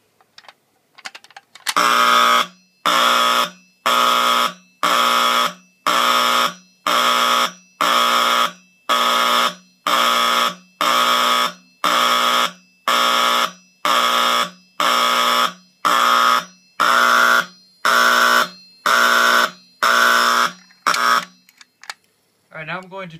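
Simplex 4208 fire alarm code wheel set to pulse, driving a loud alarm in a steady on-off pattern of about twenty regular, evenly spaced blasts, ending with a few clicks.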